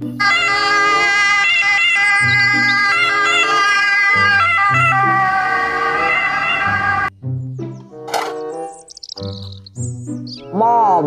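A toy siren wails with bright electronic tones that sweep up and down, loud and continuous, ending in chirpy warbling sounds.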